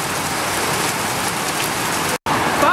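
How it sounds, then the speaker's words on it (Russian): Steady, heavy rain pours down in a dense broadband hiss, broken by a brief silent cut near the end. "Вообще такой дождь."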